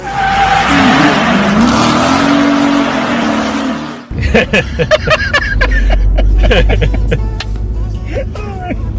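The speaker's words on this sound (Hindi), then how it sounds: "नहीं असल गीले रोड की वजह से ना ज़्यादा स्लिप हो गई" A car on a wet road in Germany runs with a loud, sustained engine and tire roar that abruptly cuts off, followed by clattering knocks, rattles and bumps as the vehicle slips.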